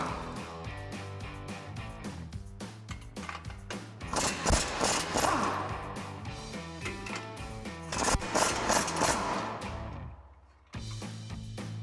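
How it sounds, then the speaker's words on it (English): An 18mm socket on a ratchet works loose the lower strut nuts of a 2015-2020 Ford F-150 during a coil-over install, with rapid mechanical clicking and metallic rattling in bursts that stop briefly before starting again. "So we'll take an 18mm socket and remove all three while we're down here."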